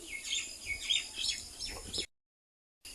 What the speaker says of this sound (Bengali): বিলের মধ্যে দেখা যাইতেছে গাদি গাদি পাখি পড়তেছে, বক পড়তেছে